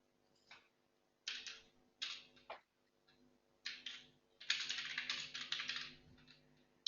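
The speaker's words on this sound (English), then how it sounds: "typing something here and submit." Someone types on a computer keyboard, with short bursts of quick, close key clicks and brief pauses, ending in a longer run of rapid typing.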